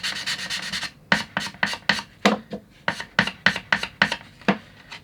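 Self-adhesive sandpaper on an aluminum sanding block rasps over a workpiece in steady back-and-forth strokes, first a fast run of short scrapes, then a slower, evenly spaced series of crisp, close rubs.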